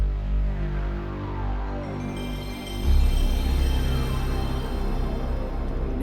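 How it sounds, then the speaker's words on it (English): The PlayStation console startup sound plays alone: a swelling, droning synthesized chime with a low hum underneath that rises about halfway through and holds steady. "my emulation is set up to not have like the PlayStation startup sound"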